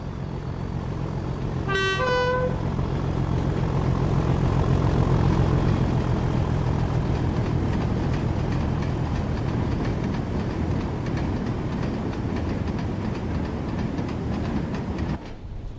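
A Class 37 diesel locomotive in the Train Sim World game sounds a horn in a quick rising run of toots, then rumbles past loud and close with a steady heavy engine drone that holds to the end.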